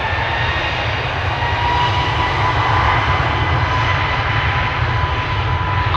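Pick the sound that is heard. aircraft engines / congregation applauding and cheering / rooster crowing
aircraft engines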